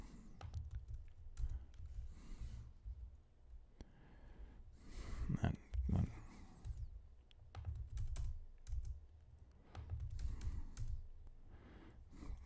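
Typing on a computer keyboard while editing code: quick irregular clusters of close keystrokes and clicks, with soft breathing and a sigh between bursts.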